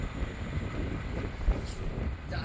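An Avanti West Coast Class 390 Pendolino passes through Nuneaton station on the West Coast Main Line, making a soft, continuous low rolling rumble that stays fairly distant and even over a couple of seconds.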